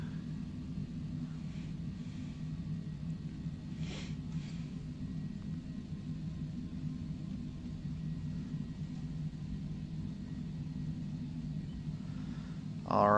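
A Cessna Longitude business jet taxiing in Microsoft Flight Simulator 2020 holds a steady low engine rumble and hum, constant and moderately quiet, with a brief faint click and a sharper sound at the very end.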